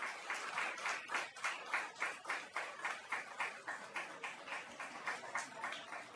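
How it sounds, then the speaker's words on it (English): A small audience at a climate action symposium claps in a fairly distinct, rhythmic pattern, with individual hand strikes audible in quick even pulses, moderately faint and sustained for several seconds. "Give a round of applause."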